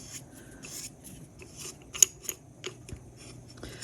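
Scissors trimming excess hardened epoxy resin from the edge of a glitter tumbler, a quiet run of small snips and rubbing with one crisp, louder cut in the middle, close up and otherwise near silent.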